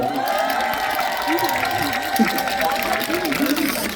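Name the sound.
audience applause for the gugak orchestra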